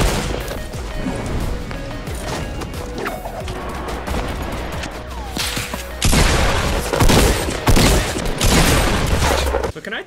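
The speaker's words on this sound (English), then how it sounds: "Oh, somebody has a burst rifle. I hear it." Dense bursts of burst-rifle gunfire and booming explosions in a Fortnite Battle Royale match, loud and chaotic, growing heavier partway through.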